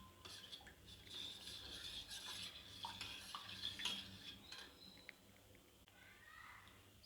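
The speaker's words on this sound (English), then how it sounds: "So now we have to mix all this. The lump should not be there. We have to mix it nicely." A utensil stirs and mixes a curry-style mixture in a pan, giving soft scraping and clinking strokes in an irregular rhythm, close by and fairly quiet.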